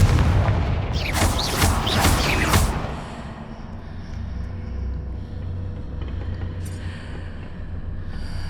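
Explosive blast from a blasting spell in the Hogwarts Legacy video game: a heavy, booming burst lasting about two seconds with a crackling tail, then a quieter low rumble and faint clatter, with no voices.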